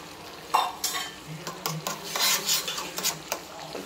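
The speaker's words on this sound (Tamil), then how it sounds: "நல்லா சுற்றிலும் நல்லா கிளறி விட்டுக்கலாம்." Ladle stirring rice and gravy in a wide cooking pot over heat, with scraping metal clinks and soft sizzling, close and moderately loud, without talking.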